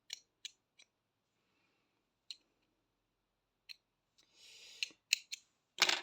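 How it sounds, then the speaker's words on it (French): Scissors snip blue crochet yarn on an amigurumi zebra piece in a few sharp, isolated clicks spread out with silence between them, then a quick cluster of snips and a brief rustle at the end, close and quiet. "Et on vient couper assez grand pour coudre."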